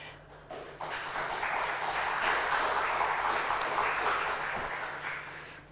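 Applause rises from a church gathering after thanks are given, a moderate crowd clapping steadily for several seconds before tapering off, fairly distant in a reverberant room.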